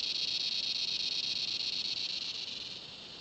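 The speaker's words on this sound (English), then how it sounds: "Where are you, cicada?" A cicada in Australian bushland at Glenbrook in the Blue Mountains gives a loud, steady, unbroken high buzzing drone that holds for the whole stretch and eases only slightly at the end.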